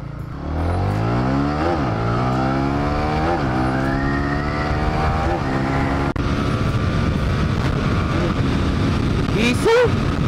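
Honda Winner X motorcycle pulling away in an acceleration test, engine note climbing through several rising gear sweeps with brief dips between shifts, loud and close, then settling into a steady drone with a brief squeal near the end.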